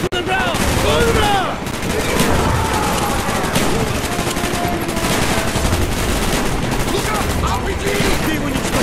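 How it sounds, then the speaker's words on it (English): Dense, continuous automatic gunfire and rifle shots from a Call of Duty Black Ops campaign battle, loud and close, rattling without pause with a brief lull just after the first second and shouted voices mixed into the fighting. "Shoot the lock, Mason!"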